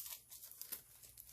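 Foil crinkling faintly during rock art foiling on a painted rock. Soft, close crackling rustles keep on through the short moment with no voices.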